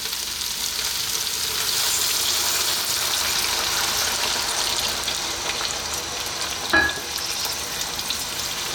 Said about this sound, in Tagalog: at mag-a-add po tayo ng tubig.